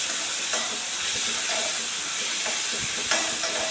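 Chopped onion and tomato sautéing in hot oil for egg kurma, a steady close sizzle and hiss with occasional faint stirring scrapes throughout.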